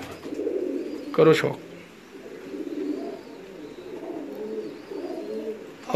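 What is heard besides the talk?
pigeons cooing in a loft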